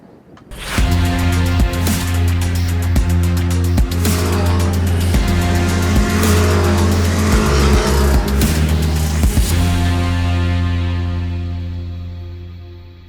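Caterham 340R race cars roar past at the Pau-Arnos circuit during a season-opening race, a loud, dense engine blare with revving surges that holds for about ten seconds and then fades away into the distance.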